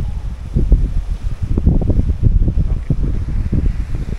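Blustery wind buffets the microphone in low rumbling gusts, with a steady roar of open air on the seashore in Ilocos Sur.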